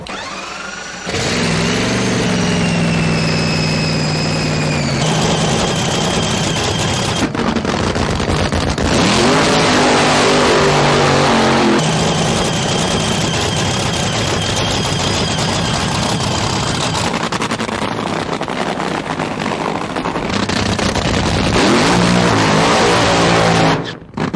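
Nitro top fuel dragster engines fire up at a drag strip, a loud sustained roar with rising and falling revs and harsh crackling, continuing for most of the stretch and cutting off briefly at moments before roaring again.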